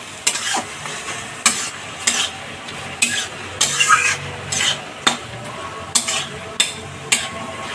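A spoon scrapes and taps against the pan while stirring cucumber shukto, giving about a dozen sharp, evenly spaced knocks over a soft background sizzle.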